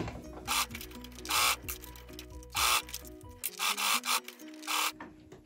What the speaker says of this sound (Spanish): Estoy cosiendo una trabilla, voy a darle también para atrás, para que quede más reforzado.